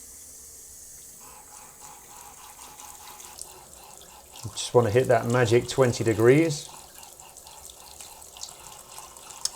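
Hot water runs steadily from a tap while being prepared for developing black-and-white film, a low continuous rush under a person speaking partway through.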